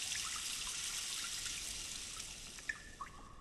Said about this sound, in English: We gotta let the water out of it so it'll float.